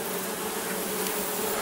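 Carniolan honey bees swarming around a backyard hive make a dense, continuous buzzing drone, close and steady, with no voices.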